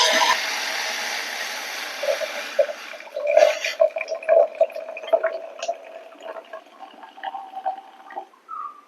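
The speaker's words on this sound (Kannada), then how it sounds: "ಆಲ್ರೆಡಿ ನಾನು ನೀರು ಕುದಿಸ್ತಾ ಇದ್ದೇನೆ, ನೀರು ಕುದೀತಾ ಉಂಟು." Water on the boil for a winter morning drink bubbles and gurgles close by, a steady hissing rush giving way to irregular bursting blips and pops, with no voices.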